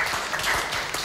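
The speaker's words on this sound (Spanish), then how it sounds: "¡Fuerte el aplauso!" Short burst of audience applause on a Spanish-language game show, a dense wash of clapping from a studio crowd that fills the whole moment.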